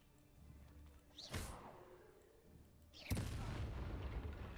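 A fiery spell burst from a wizarding video game, with two sharp whooshing flares a couple of seconds apart, the second settling into a sustained loud crackling roar.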